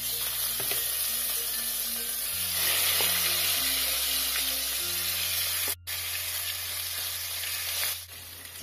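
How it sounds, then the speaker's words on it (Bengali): Marinated chicken frying in hot spiced oil for Hyderabadi chicken, a loud continuous sizzle close up, overlaid with steady background music, with no talk. "এবারে দিয়ে দিচ্ছি ম্যারিনেট করা চিকেনটা।"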